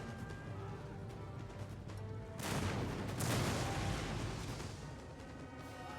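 Cannon and howitzer fire booms across an Empire: Total War battlefield, a dense rumble of artillery and musketry that swells sharply after a couple of seconds and stays loud, with overlapping blasts and no voices.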